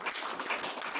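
Applause from an audience at a Hindi poetry gathering, a dense, continuous wash of many hands clapping throughout, moderately loud and fairly distant, with no talk over it.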